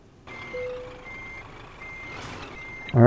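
Reversing beeps from a truck backing up in Euro Truck Simulator 2 sound as a steady run of evenly spaced electronic beeps over engine rumble, ending in a louder burst of game noise.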